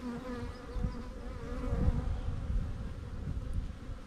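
Honeybees buzz steadily in an open hive infested with small hive beetles, a dense close drone of many wings with shifting swells and no speech.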